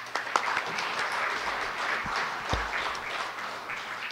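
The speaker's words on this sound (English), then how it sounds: "join me in giving him a round of applause" Steady applause from an audience at a public event in Guam fills the whole stretch, dense clapping at an even level with a few louder claps standing out.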